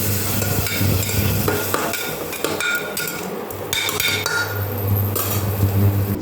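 Curry stirred in a metal pot with onion-garlic paste and a little water, a spoon scraping and clanking in steady rhythm over a loud bubbling sizzle, close by with no talk.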